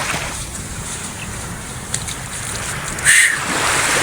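Sea waves at the shore, heard as a steady, loud broadband wash with gusty wind buffeting the microphone and a brief swell near the end.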